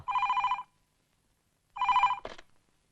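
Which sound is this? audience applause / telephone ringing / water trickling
telephone ringing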